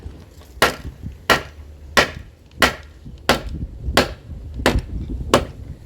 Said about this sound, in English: Can you hit it in with the hammer that way?